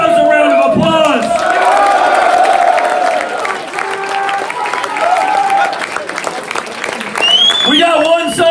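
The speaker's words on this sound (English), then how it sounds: "Give yourselves a round of applause." A packed club crowd at a metal gig in Den Bosch, the Netherlands, cheers, whoops and claps loudly and continuously, with shouted voices rising over the roar before it thins slightly midway.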